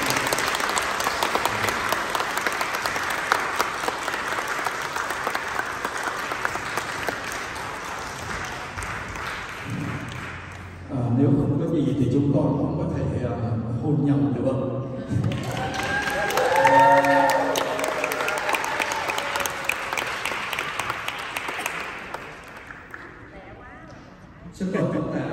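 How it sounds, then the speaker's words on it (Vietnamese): Wedding guests applaud the newlyweds at a church wedding ceremony, a full crowd clapping steadily for about ten seconds, then cheering and chatter with voices over fading claps, with more scattered clapping later. "Xin tất cả mọi người chúng ta cho anh chị và chồng một tràng pháo tay."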